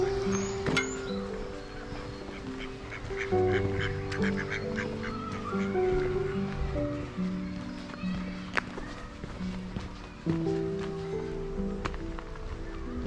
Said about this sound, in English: There we go, more ducks.